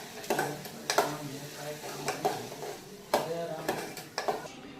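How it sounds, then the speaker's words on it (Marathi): Vegetable curry cooks in a pan with repeated clinks and scrapes of a utensil stirring against the metal, coming in uneven bursts about once a second over a low background. "भाजी आता मी शिजवायला ठेवलेली आहे"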